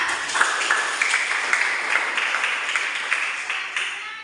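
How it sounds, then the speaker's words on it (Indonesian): Classroom full of students applauding together, dense steady clapping of many hands that continues evenly with small bursts of louder claps. "Baiklah, tepuk tangan semua ya."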